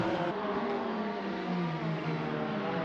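Touring race cars lap Croft circuit in a sim racing game, their engines a dense, continuous high-pitched drone of several cars close together, steady and loud throughout.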